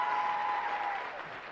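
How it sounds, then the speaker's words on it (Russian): Studio audience applauding on a TV music-guessing quiz show, a brief, steady wash of clapping heard alone with a faint sustained tone beneath it. "Мы это отметим аплодисментами."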